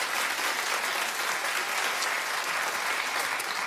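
Studio audience applause on a daytime talk show fills the room, a steady, dense wash of clapping that holds at an even level without any voices over it.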